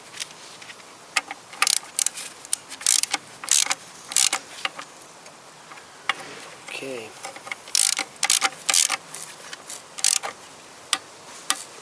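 Wrench and 12mm socket tightening bolts on a Toyota Corolla VVT-i clutch slave cylinder, giving a run of quick, close metallic ratcheting clicks in irregular bursts, with brief pauses between.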